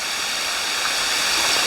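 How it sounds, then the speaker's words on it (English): Goa Raja Waterfall in Bali pours with a constant, even rushing hiss of falling water, steady and unbroken, with no voices. "So here we are, the Goa Raja Waterfall."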